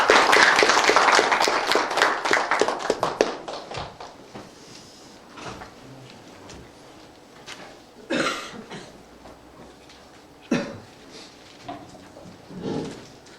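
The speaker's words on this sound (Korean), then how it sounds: "박수로 맞아주시기 바랍니다." An audience in a lecture hall claps to welcome a speaker: dense, loud applause for about three seconds that thins and fades, followed by scattered claps, coughs and faint rustling in a quiet room.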